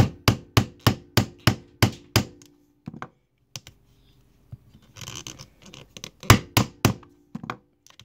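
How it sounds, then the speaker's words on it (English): Repeated sharp thwacks of a rawhide hammer striking a metal hole punch through leather, a rapid run of about eight blows, a pause with light handling, then another burst. "I'm just going to place my hole punch. And then I have a rawhide hammer"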